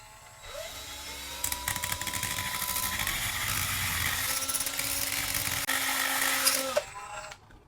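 A Dremel rotary tool whines at high speed while sanding a small hex driver, a steady close grinding buzz lasting several seconds before the motor winds down and stops.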